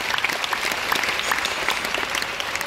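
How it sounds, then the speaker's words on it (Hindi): Loud, lively applause from an audience at a hall meeting, many hands clapping at once with distinct sharp claps standing out over the dense wash, steady throughout. "जबरदस्त ताली होना चाहिए।"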